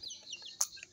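Native backyard chickens cluck softly while feeding on wheat bran in a coop area, with a few short calls and one brief louder squawk close by.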